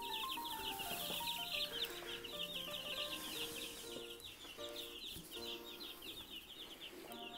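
Hens clucking inside a lit, heated backyard coop with no roosters, a soft continuous chorus of overlapping clucks and chirps heard from close by at low volume.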